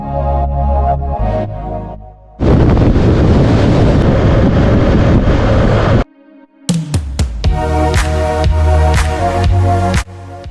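Strong wind roars across the microphone during a motorcycle ride over high desert plateaus with blowing sand and salt, in loud broadband gusts that drop out briefly and return with sharp buffeting.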